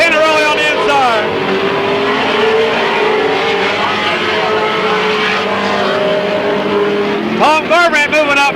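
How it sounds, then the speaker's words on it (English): Race cars roaring past at a small speedway in 1995, engines loud and sustained with rising and falling pitch as cars sweep by, a commentator talking over the racket. "There comes John Tannerelli on the inside"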